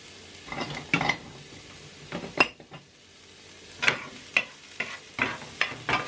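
Tofu scramble with onions and garlic cooking in a hot pan, with a utensil scraping and stirring in bursts over a low sizzle, plus occasional clinks of pan and spatula, close and moderately loud.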